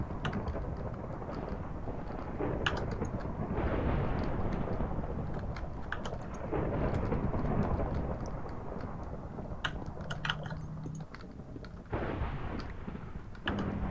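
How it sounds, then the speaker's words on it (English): Thunderstorm rumbling in a UHC survival video game, with dense, heavy rolling thunder and crackling bursts sustained throughout, loud and close with no voices. "Sounds like thunderstorm on the surface"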